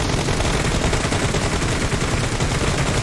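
Dense, continuous video game gunfire roars close and loud, a rapid machine-gun-like rattle with no pauses and hardly any speech.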